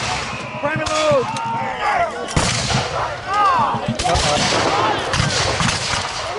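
American Revolution reenactors fire musket volleys in an open-field battle, several sharp cracks with ragged echoes, while a commander shouts drill orders and others talk throughout.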